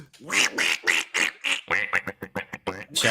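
Duck quack sound effect, a loud close run of rapid, nasal quacks repeating in quick bursts for about three seconds.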